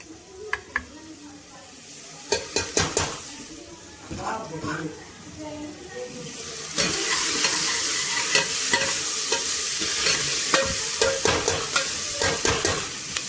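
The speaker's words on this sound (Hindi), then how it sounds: "छौंक मैंने रख दिया है, प्याज डाल दिए इसमें, ये देखो" Onions and garlic sizzle and fry in hot tempering oil, a steady crackling hiss that grows louder and denser partway through, with occasional stirring clatter and a voice speaking briefly.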